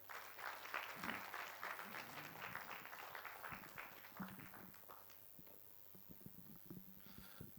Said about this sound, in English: One more round of applause to the PS Foreign Affairs